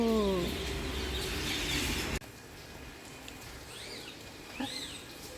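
Shrill, arching calls of parakeets ring out a few times at moderate distance over a quiet outdoor background, after a burst of louder noise at the start.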